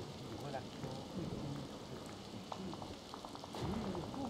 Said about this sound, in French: Bah oui, c'est normal, il pleut.